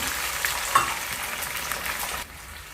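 Drumstick flowers and small onions stir-frying in a pan, a steady close sizzle with occasional scrape and stir noises, softening near the end.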